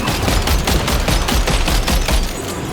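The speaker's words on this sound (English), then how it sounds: "The cannon on my off-roader is actually doing the work for me." Rapid, loud bursts of cannon fire from an off-roader's mounted gun in Death Stranding 2, a dense, fast rhythmic volley of close, booming shots that runs throughout without a pause, with no talk.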